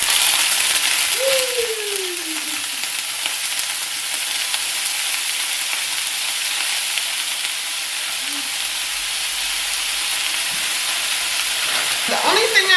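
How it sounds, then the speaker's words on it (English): Frozen precut onions and peppers sauté in oil in a pan, giving a loud, even, continuous sizzle that hisses throughout with a couple of faint scrapes and no talking. "So we're just going to use some frozen onions and peppers already cut up."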